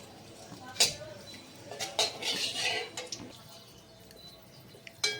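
Whole spices (bay leaf, cloves, cardamom, cinnamon) are stirred in hot oil in a pan for chicken, a metal spoon clinking and scraping against the pan in several sharp, uneven knocks, with faint sizzle and a little background voice.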